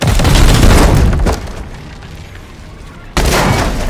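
Gunfire and heavy booms in the turn-based game Warhammer 40k: Chaos Gate - Daemonhunters, with a loud blast at the start that fades into a quieter rumble before a second sharp burst hits near the end.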